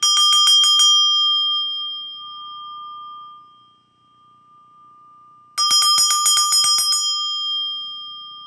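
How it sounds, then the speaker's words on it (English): A small bell is rung in two quick bursts of rapid clear strikes, with a long ringing decay between them; close and alone, with no talking. "let's ring the bell"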